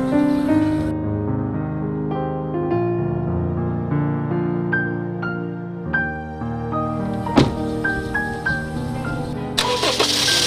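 A car engine cranks and catches after a loose battery cable is fixed, then settles into a steady mid-pitched running hum with a few clicks and knocks near the end, heard up close with no talking.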